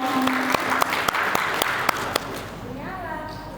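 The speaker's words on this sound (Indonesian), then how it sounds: "Kita aplaus dong untuk kita semua, berikan aplaus untuk kita semua." Audience applause at an Indonesian community learning center event, a loud wash of clapping with sharp individual claps standing out, while a voice talks over it and the clapping fades toward the end.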